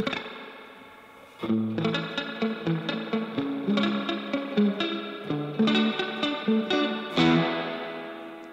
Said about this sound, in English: Spring reverb. Yeah, right. The classic.